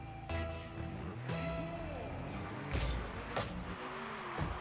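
A small car driving in the Rocket League video game, its engine humming and whining with rising and falling pitch sweeps and bursts of boost rushing through, close and steady.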